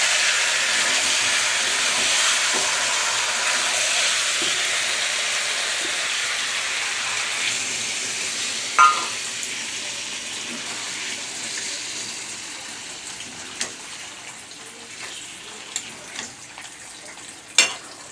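Water poured into hot oil with frying chicken curry, a loud steady hiss that slowly fades, followed by a few sharp isolated clinks toward the end.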